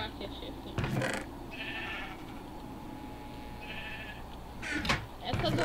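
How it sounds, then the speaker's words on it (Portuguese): Sheep in the game Minecraft bleat twice, a pair of short nasal calls spaced a couple of seconds apart, under a steady background bed with a few bumps and clatters, while someone talks throughout. "Essas ovelhas estão me enchendo o saco"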